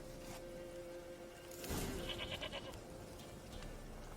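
A goat in The Witcher 3 gives a short, faint bleat amid a low game ambience and background hum.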